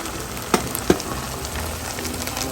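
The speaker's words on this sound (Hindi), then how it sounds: "बहुत कम से ऑयल में मैं इनको फ्राई कर रही हूँ" Okra (bhindi) frying in a small amount of oil, giving a steady low hiss with a couple of sharper spatters or stirring knocks early on; no one speaks.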